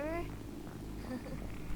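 A pet cat near a desk gives a short meow at the start, followed by soft purring and faint cat sounds under steady background noise, with a person talking nearby.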